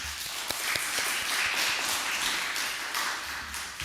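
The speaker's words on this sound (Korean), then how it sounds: "박수 한번 쳐줄까요?" Congregation in a church claps for a child after her part in a Sabbath school program, a short burst of scattered, fairly light applause with uneven taps, moderately close.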